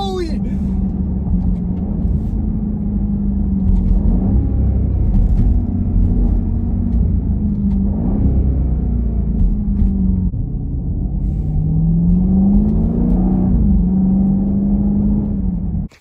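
A 2021 Jeep Grand Cherokee SRT launches in track mode, its engine a loud, close, continuous rumble that swells and dips in pitch as it revs and pulls hard for about sixteen seconds.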